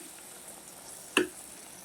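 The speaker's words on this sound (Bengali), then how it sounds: "এইভাবে এক এক করে সব তেল পিঠাগুলো আমি ভেজে নেব" Dal pitha frying in oil in a pan gives a faint, steady sizzling hiss, broken once by a single short metallic clink near the middle.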